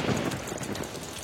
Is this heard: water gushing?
no